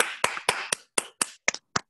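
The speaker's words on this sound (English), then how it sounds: "Give her a big round of applause." A few sharp, separate claps at a slow, uneven pace, close and fairly quiet, fading out after about eight hits, given for a piano performance in a music class.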